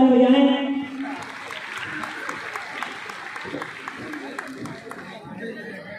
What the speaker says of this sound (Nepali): बहुत बहुत शुभकामना, ताली बजाएं।